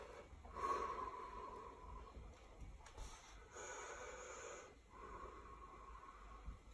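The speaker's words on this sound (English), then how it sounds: "Just breathe in and out for me, just through your mouth." A patient breathes in and out through the mouth during a respiratory exam, with soft, airy, slightly wheezy breaths repeating in a slow rhythm, quiet and close.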